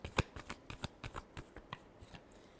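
Tarot cards are shuffled close by, a quick, quiet run of soft flicks and riffling snaps spaced irregularly over a couple of seconds, with no voices.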